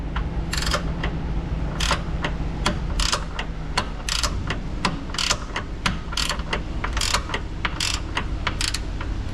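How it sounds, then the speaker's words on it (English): A ratchet loosens a jam nut on a cam adjuster during a rear axle swap to a 9.5-inch 14-bolt, six-lug axle. Quick repeated ratcheting clicks come in short bursts close by, steady and alone. "Let's take this jam nut loose right here."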